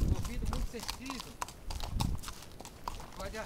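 Hooves clip-clop steadily at close range during a horse ride, a continuous rhythmic patter, with people speaking over it.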